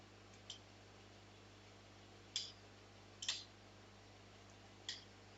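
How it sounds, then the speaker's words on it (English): A relay switched by a BJT driver circuit on 3.3 volts clicks four separate times at irregular intervals, each a short sharp snap over a quiet, faint electrical hum. "we should hear the relay clicking"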